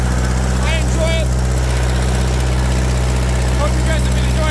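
A Ford tractor engine idles steadily on a farm, a constant low rumble running throughout, with brief chirps of birds or other sounds faintly above it.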